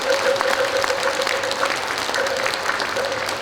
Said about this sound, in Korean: 큰 박수 좀 한번 보내주십시오